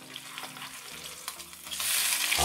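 A vegetarian patty fries in an oiled pan, a steady crackling sizzle punctuated by light scraping and taps, swelling into a louder hiss near the end after the patty is flipped.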